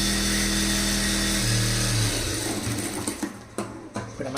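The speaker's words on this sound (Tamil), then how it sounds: "கரெக்டாக 1/2 இன்ச் கேப்பில் ஒரு தையல் போட்டுடலாம்" A sewing machine runs a straight seam through blouse lining at a half-inch gap, its motor a steady, close, loud whir for about two seconds before slowing into a few uneven bursts and stopping.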